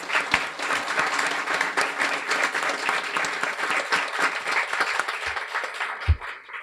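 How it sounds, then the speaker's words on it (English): Warm audience applause for guide dog graduates at a graduation ceremony, dense sustained clapping from a crowd filling the room, steady and fairly loud throughout with a few sharper nearby claps. "Let's give all of our graduates a warm round of applause."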